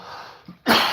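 A single short, harsh cough bursts out loudly near the end, preceded by a faint throat sound and quiet background.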